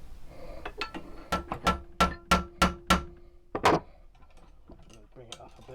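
A hammer strikes the metal guard of a handmade Bowie knife to bend it, sounding as about eight sharp, ringing clanks in a fairly regular rhythm close by, followed by quieter handling noises.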